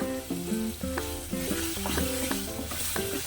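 Fish fries in hot oil with a constant close hiss and crackle, with a melodic tune playing over it throughout.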